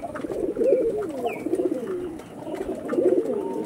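Pulsar breed pigeons cooing close by, repeated rolling low coos in a steady rhythm with a couple of faint higher chirps behind, no voices.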